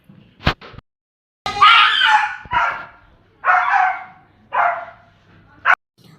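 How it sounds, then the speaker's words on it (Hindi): A pet dog barks loudly at guests arriving at a house at night, sounding several sharp, close barks in separate bursts, with a few short yips and brief silences between them. "ये देखिए कितनी तेज़ भौंक रहा है"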